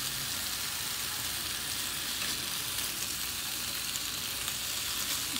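Turkey bacon sizzles on a griddle pan, a continuous close hiss and crackle of frying fat with faint stirring, steady in level throughout.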